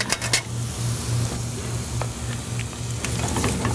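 Freshly made spätzle stirred in a pot, giving a steady close wet scraping and bubbling churn over a low hum, with no voices.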